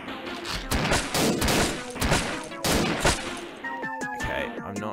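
Loud shotgun blasts boom in quick succession in the video game Shotgun Mother, followed by a few ringing electronic tones.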